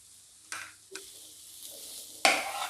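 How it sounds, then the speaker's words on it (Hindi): Boiled potato pieces for samosa filling are stirred and fried in a pan, with a few scraping stirs over a faint sizzle, ending in a louder burst of frying noise. "अब इसे हम अच्छे से मिक्स कर लेंगे और इसे हमें अच्छे ड्राई होने तक फ्राई करना है"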